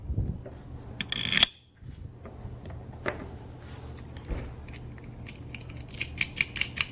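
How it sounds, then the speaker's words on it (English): Bolts slide into the halves of an aluminum groove clamp with a few light metallic clinks and taps, then a brief clatter near the end, close by and fairly quiet, with no talking. "Insert your bolts."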